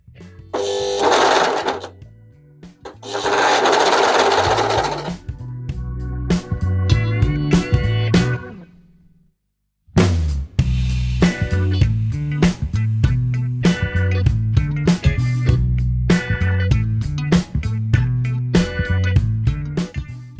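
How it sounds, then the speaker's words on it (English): A serger overlocks the edge of a delicate fabric T-shirt sleeve in fast rhythmic stitching bursts, with a short pause midway before running steadily again, close and loud. "Now I'm going to take these in and I'm just going to serge the edge of that."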